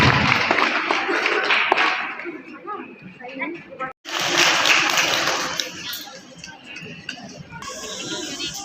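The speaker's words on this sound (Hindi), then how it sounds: "तालियां।" At a women's programme held in a school, an audience claps for women being honoured; loose, uneven clapping and thumps run under ongoing talk and chatter, with a brief break midway before clapping resumes.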